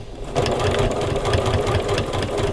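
Sewing machine stitching a mitered fabric binding angle, a fast steady mechanical chatter starting after a brief pause and running on close and clear.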